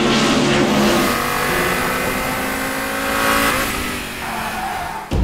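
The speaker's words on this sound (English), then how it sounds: "Many people remember the sound of the five-cylinder in former times." A 1989 Audi 90 IMSA GTO with a 720 hp five-cylinder race engine revs loud and close, a rough, throaty note rising and falling before cutting off abruptly at the end.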